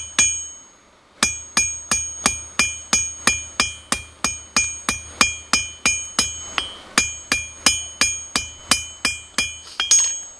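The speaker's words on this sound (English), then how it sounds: "These just real light hammer taps." A small hammer tapping the corners of a metal rod to round them off, about two dozen bright, ringing strikes in a quick even rhythm after a short silent start, close up and with no voices.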